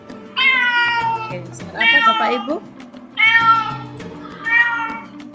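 A cat meows four times in a row, each call loud and close with clear gaps between them.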